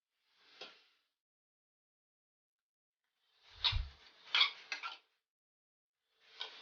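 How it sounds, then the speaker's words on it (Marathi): Grated carrot is stirred in ghee in a pan on a low flame for carrot halwa, with sparse, quiet clinks and scrapes of a spoon against the pan in short clusters separated by silence. "आता मी याला तुपामध्ये व्यवस्थित परतून घेणार आहे"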